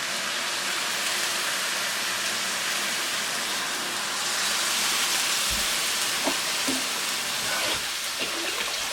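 Chicken stock poured into a sizzling pan of mapo tofu, a loud continuous hiss and crackle of liquid hitting hot oil, with a few clinks and knocks near the end.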